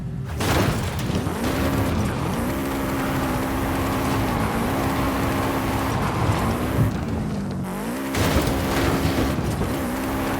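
Engine of a Subaru Brat in Forza Horizon 5 roars loudly and continuously, rising and falling in pitch through gear changes, with a sharp dip and fresh climb toward the end.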